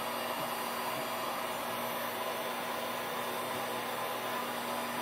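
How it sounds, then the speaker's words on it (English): A heat gun blows hot air over a painting, giving a steady, close, even rush of air that holds unchanged from start to finish with no voices. "turn the heat gun on. And we'll hit it and see if we can get something else to happen on there."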